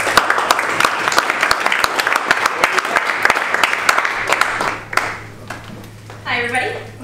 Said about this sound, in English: why don't we all give her a quick round of applause